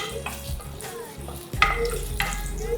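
Coconut pieces roasting in a pan for semiya payasam: a low frying hiss with a few scraping stirs and a sharp clatter midway, after which the sizzle turns louder and steadier.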